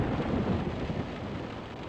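Rain and thunder weather in the Virtual Sailor NG ship simulator game, a dense steady roar of rainfall with a low rumbling thunder swell early on, loud and continuous.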